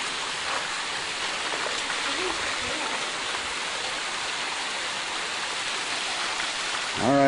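Water showers down steadily in the Grand Canyon narrows, a dense close hiss of falling spray like heavy rain that goes on without a break, with a brief louder splash at the end.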